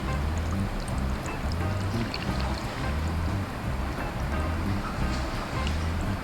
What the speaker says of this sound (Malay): So saya isi air ni.